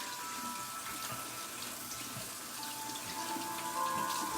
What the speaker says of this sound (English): I'm going to use some antibacterial soap and just wash my hands before doing anything